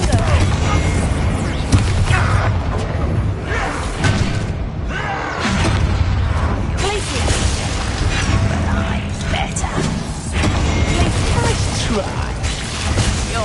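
Confringo blasting spell detonating repeatedly in a Harry Potter video game's dragon-freeing battle, loud booming impacts and mechanical clatter running continuously, with a voice casting spells over the mix.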